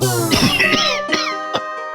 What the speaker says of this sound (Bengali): কথা বললে আপনার কাশি হচ্ছে